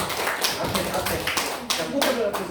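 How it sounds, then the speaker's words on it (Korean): Applause from a church congregation during a Sunday morning service, a steady spread of hand claps of varying density running throughout under a busy room. "박수 한번"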